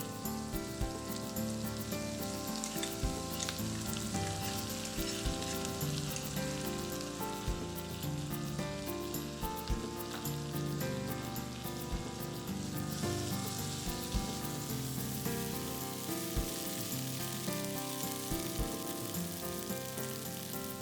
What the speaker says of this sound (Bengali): এখন আদা রসুন বাটা দিয়ে দিচ্ছি।